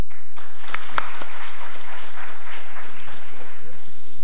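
A conference audience at the 2018 WWF Climate Action Conference applauds the panel after a discussion session, loud sustained clapping filling the hall while a host talks over it.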